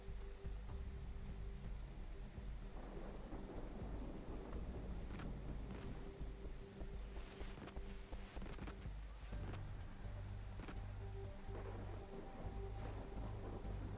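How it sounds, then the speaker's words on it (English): Steady rain with low rumbling thunder fills the scene in the video game Far Cry 3, a dense continuous wash of downpour with occasional deeper rolls and faint clattering, no voices. "Luckily, it's raining."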